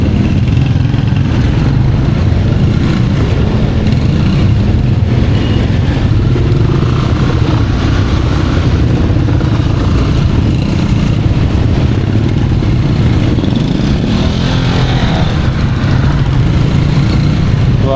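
A new motorcycle named Neo runs close by, its engine giving off a loud, steady, unbroken drone that holds level throughout.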